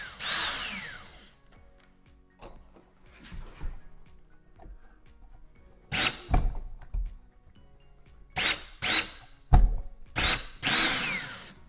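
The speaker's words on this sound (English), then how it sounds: "you can use a drill or an impact to install the outlet mounting screws into the box here" A power drill on a low setting drives outlet mounting screws into an electrical box in short whirring bursts, with quiet handling sounds between them and a longer whir at the start.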